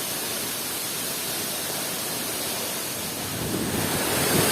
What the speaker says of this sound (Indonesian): Akhirnya alhamdulillah kita sampai di lokasi air terjun Kalingisor, Desa Bingo, Kecamatan Donorojo.